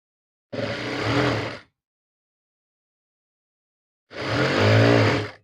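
A sewing machine stitches a shirt in two separate short whirring runs, each about a second long, with a silent pause between them and no talk.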